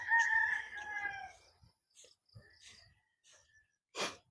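Rooster among tied chickens at a quiet rural farm hut in the Philippines: one close, loud crow opens, followed by sparse faint clucks, small noises and a brief sharp sound near the end.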